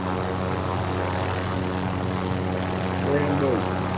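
A helicopter flying in Call of Duty Modern Warfare (2019), a steady droning engine hum with rotor tones held throughout, fairly loud and continuous, with a brief rising whine near the end.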